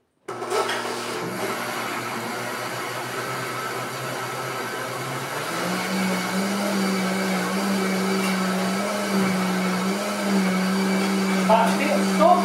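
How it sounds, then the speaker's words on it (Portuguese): A kitchen blender churns prestígio chocolate cake batter, a steady close motor drone that starts abruptly, then shifts to a higher, stronger whir partway through as the ingredients blend. "Agora a gente vai bater. A etapa aqui do liquidificador é só essa aqui"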